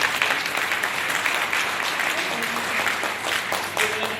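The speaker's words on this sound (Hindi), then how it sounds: "मैं चाहूँगा एक बार जोरदार तालियां होनी चाहिए।" Loud applause from an audience at a direct selling achievers' event, dense clapping that fills the room steadily for several seconds with a faint murmur of voices underneath.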